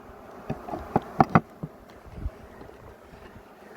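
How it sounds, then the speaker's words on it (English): Honeybees buzz close by in a low hum while being split into small hive boxes, with a few louder thumps and bumps scattered over the faint background drone. "We got bees in each."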